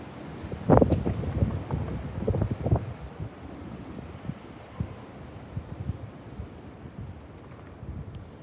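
Strong wind buffets the microphone outdoors in gusty bursts, loudest early on and then easing into a lower rumbling rush.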